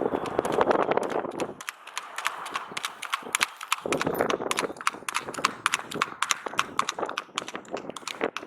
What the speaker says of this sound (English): This horse is trotty.